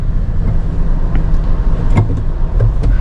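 A manual car idles steadily after starting and sits in first gear with the engine running, giving a loud, continuous low rumble with a few light clicks and no talking.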